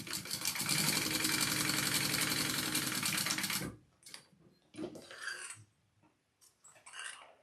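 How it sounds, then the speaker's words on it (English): A sewing machine top stitches a flap on a clutch purse in a loud, fast, even run of needle clatter for several seconds. It then stops, leaving a few short bursts of handling noise. "I'm gonna just top stitch or baste the top closed real quick."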